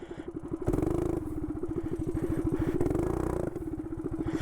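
A motorcycle, its rider having burned a glove on its hot exhaust, revs and pulls hard, its engine pulsing in a loud steady rhythm with a few surges in pitch, close and alone with no talk.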